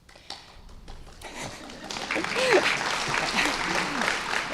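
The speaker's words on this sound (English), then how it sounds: "You can clap for money, clap for money." Applause rises from a crowd at a mayor's announcement about expanding shelter in Seattle, starting with scattered claps and swelling into moderate steady clapping, with voices heard through it.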